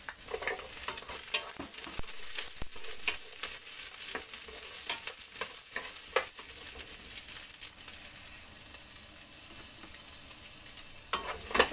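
Onion and garlic sauté in a pan, a soft steady sizzle with intermittent stirring scrapes and clicks, close and fairly quiet, no talking.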